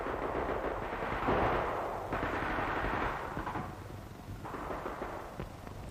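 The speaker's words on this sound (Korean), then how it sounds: "일본군의 수류탄 세례까지 이어졌다." Battle sound effect of grenade explosions and gunfire in the Battle of Tarawa against Japanese defenders, a dense distant rumble of bursts and crackling shots rising and falling in waves, with no speech.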